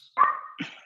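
A dog barks twice in quick succession nearby, the second bark shorter, in an otherwise quiet indoor setting during an online meeting.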